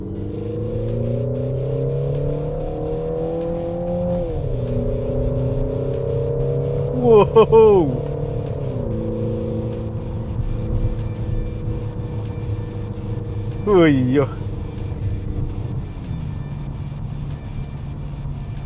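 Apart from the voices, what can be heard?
Peugeot 5008 SUV engine revving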